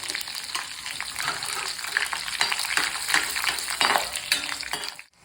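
Mint leaves, coriander and slit green chillies hit hot oil with fennel seeds, a dense, steady crackling sizzle with scattered pops, close and loud throughout before cutting off abruptly at the end.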